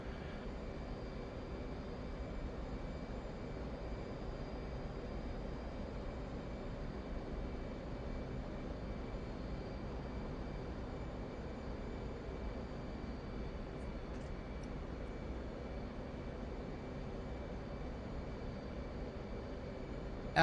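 An F-18 jet in the DCS flight simulator game drones with a steady, quiet engine hum that stays unchanged throughout.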